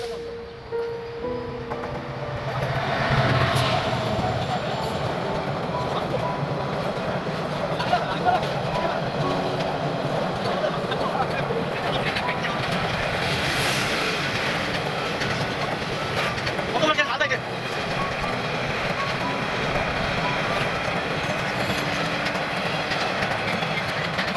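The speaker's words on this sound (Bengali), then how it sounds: "এখন ট্রেন আসতেছে" A train arriving at a railway station rumbles steadily with clattering wheels and a brief high squeal, loud and close, while people talk nearby.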